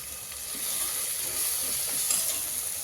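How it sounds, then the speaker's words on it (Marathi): Masala fries in oil for mutton pulao, giving a dense, continuous hissing sizzle close to the pan with faint scattered pops, and no talk. "बघा किती छान तेल फुटायला लागलं आहे आपल्या मसाल्याला"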